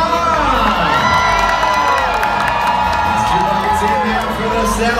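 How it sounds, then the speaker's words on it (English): Arena crowd cheering at Dolly Parton's Stampede dinner show during a bucket-relay contest between north and south sides, loud and sustained with shouts and whoops from children and adults, a voice faintly through the din. "everybody, cheer them on!"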